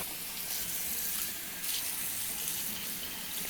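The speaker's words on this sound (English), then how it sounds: "maybe I'll rinse off some of the pillowcases, because those will be quicker and easier to rinse off" Tap water runs steadily into a sink while tie-dyed pillowcases are rinsed, a constant close gushing splash that swells slightly partway through.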